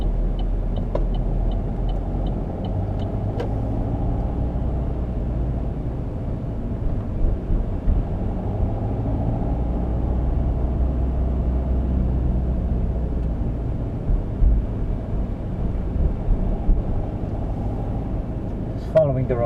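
A car drives along a residential road through Tallaght, its steady low engine and tyre rumble heard from inside the cabin, with a few faint clicks and a person talking over it.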